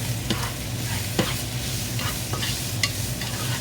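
Onion with ginger paste and garlic paste sautés for an egg curry, a steady close sizzle broken by a few sharp scrapes of stirring, with no voices.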